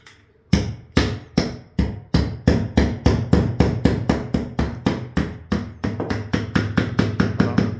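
A 14 mm wall plug is hammered into a concrete load-bearing wall, a rapid run of about thirty loud, sharp hammer blows. The strikes come close together and evenly at first, then speed up, with no speech.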